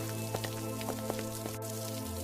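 Light rain patters faintly in scattered drops beside a roadside food cart, under a steady low hum.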